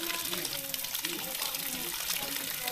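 Cold spring water gushing steadily from a village fountain where watermelons are being chilled, a continuous close splashing flow with voices talking over it.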